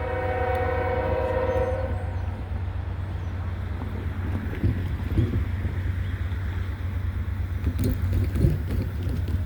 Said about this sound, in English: That might actually be a unit train.